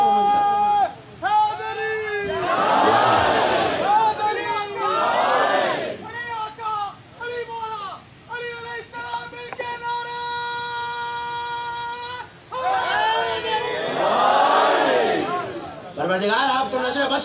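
Loud crowd chant at a Muharram majlis in an imambargah, with massed voices calling out in repeated surging waves, separated by brief lulls and pauses.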